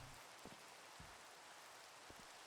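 Steady rain falling at night in the Minecraft video game, a constant soft hiss of drops with a few faint low thumps, heard alone without talk.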